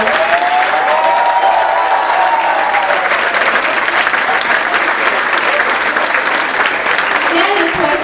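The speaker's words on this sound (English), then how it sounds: "Please give yourself a big round of applause." Sustained, loud applause from a large audience at a PGDM convocation ceremony, steady clapping throughout with some cheering and voices mixed in.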